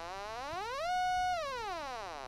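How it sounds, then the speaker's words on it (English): A modular synthesizer oscillator set to a bright, buzzy sawtooth waveform plays a single sustained tone that glides upward in pitch, holds steady for a moment, then slides back down, heard alone and close. "So now it's on a saw waveform."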